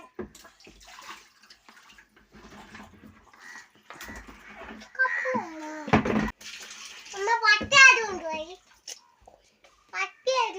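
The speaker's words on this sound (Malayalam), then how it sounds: "കപ്പ് കൊണ്ട് കോരി ഒഴിക്കും." Water is scooped up with a cup and tipped out while a water tank is cleaned, giving intermittent close splashes and pours, with a loud splash mid-way, as children talk and call out around it.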